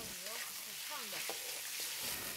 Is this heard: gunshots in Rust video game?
no